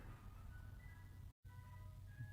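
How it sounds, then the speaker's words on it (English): Faint tinny jingle tones from an ice cream truck parked outside a house on a cold day, with a steady low outdoor rumble underneath and a brief dropout midway. "there's an ice cream truck outside of our house right now"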